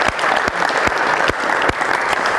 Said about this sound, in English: But I do want to have an applause for the players.